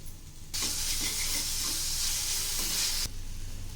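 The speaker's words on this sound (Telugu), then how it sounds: "అల్లం వెల్లుల్లి పేస్ట్ వేగింది కదండి" Ginger garlic paste with onions and green chillies sizzles loudly in a pan, a burst of hissing frying noise for a few seconds with stirring, dropping back to a faint background.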